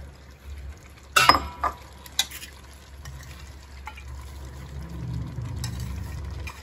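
Chopped mint and coriander leaves being stirred into hot oil for Kongu-style mutton white biryani: a low, soft sizzle with a few sharp clatters of a spoon against the pan early on, then a gentle frying hiss.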